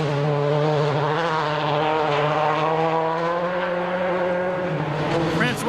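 A privately entered Peugeot rally car races a rough gravel stage at the 2003 Rally of Turkey, its engine note loud, close and sustained, holding a high droning pitch with slight rises throughout.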